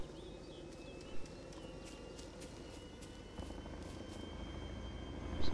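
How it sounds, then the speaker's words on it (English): Chinook helicopter in the DayZ Epoch video game, a low rumbling rotor drone with faint repeated thumping, moderately distant and slowly growing louder toward the end. "It's a Chinook."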